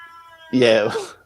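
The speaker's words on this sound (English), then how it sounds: "Was that a cat?" A loud cat meowing outdoors, one drawn-out, strained meow that rises abruptly after a quiet stretch and fades away; a faint earlier tonal whine sits in the background.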